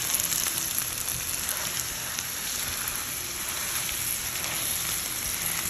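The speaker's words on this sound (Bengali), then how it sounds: "দিয়ে পুরোটা কাঁচা কলাটাকে এর মাঝে ভেজে নেব" Raw green banana and softened onions frying in a pan over low heat give a steady, even sizzle and crackle that runs unbroken at close range, with no voices.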